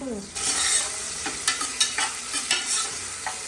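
Finely chopped onion drops into hot oil over cumin and bursts into a sudden sizzle. Rhythmic stirring scrapes follow, close and moderately loud, with no voices.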